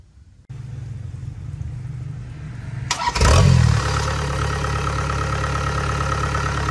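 A Kubota DC70 combine harvester engine cranks and fires, then settles into a steady, loud idle with a deep low rumble, close by and with no voices.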